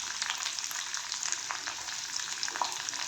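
Finely chopped onion sizzles in hot oil with green chillies and curry leaves, a dense crackling fry with small pops, fairly close and steady throughout, no voices.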